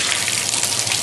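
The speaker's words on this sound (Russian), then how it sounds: "Попробуем включить воду" A bathtub tap runs in a household bathroom, water gushing steadily and loudly into the tub with a bright, even hiss throughout and no voices.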